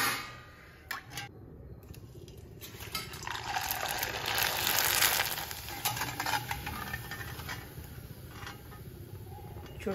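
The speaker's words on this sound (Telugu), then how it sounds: "ఆయిల్లో వేసుకుందాము." Masala vadiyalu, lentil fritters, frying in hot oil give a steady, close sizzling hiss with bubbling and occasional stirring scrapes, swelling midway and continuing without speech.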